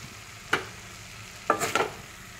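A spatula stirs and turns spiny gourd in a cooking pan, giving three short scraping strokes: one alone, then two close together, moderately loud against a quiet background.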